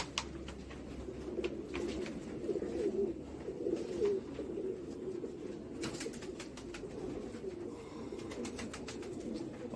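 Tonk pigeons coo in low, repeated throaty rolls close by, with a few brief flaps and scuffs mixed in.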